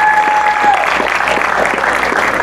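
An audience applauds an artist at a music video awards event, loud, dense clapping up close for a short burst, with a few voices and a brief whistle-like tone at the start.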